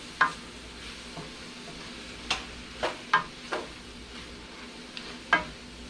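A pot of Cajun jambalaya simmers with a faint, steady sizzle, broken by a handful of sharp scraping clinks as a spoon stirs and knocks against the pot at uneven intervals.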